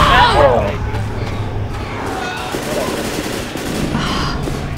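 Left 4 Dead gunfire rattles in loud bursts at the start, then carries on more thinly amid game noise and faint voices through the rest.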